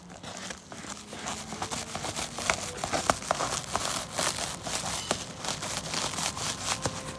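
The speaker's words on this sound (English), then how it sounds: "So I'm gonna start unwrapping it." Plastic wrapping film is pulled and peeled off a folded replacement bumper for a silver Toyota Corolla XRS, giving a steady stream of close crinkling and crackling with scattered sharper snaps throughout.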